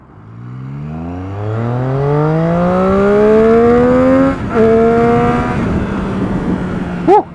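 A Triumph Street Triple 675 motorcycle accelerates hard, its engine climbing steadily in pitch for several seconds, a brief dip at a gear change, then more revving and a sharp final throttle blip, loud and close.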